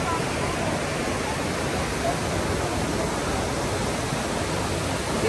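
Loud, steady roar of a waterfall pouring along a hiking trail, broadband rushing water filling the whole stretch without pause; no voices break through.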